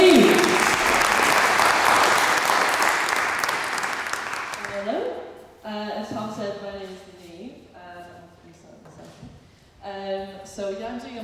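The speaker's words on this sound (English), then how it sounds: "Round of applause for Niamh!" A theatre audience at an Oxford maths variety show breaks into loud, sustained applause that fades away by about five seconds, followed by someone talking at a microphone.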